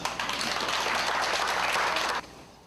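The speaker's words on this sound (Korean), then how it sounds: "그래서 전부 다, 다 같이 축하하는 의미에서 박수로" A group applauds in congratulation after passing a motorcycle licence test in Chilgok, 2000: a dense, steady patter of clapping that fills the room, then cuts off abruptly near the end.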